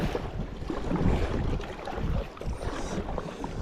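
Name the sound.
wind and waves while paddling a loaded kayak on a lake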